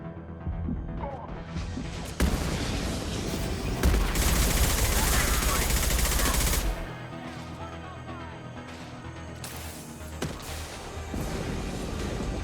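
Combat in Mass Effect 2: gunfire bursts and a heavy rumbling blast over a droning background, with a loud stretch in the middle and a lighter crack near the end, and brief talk mixed in.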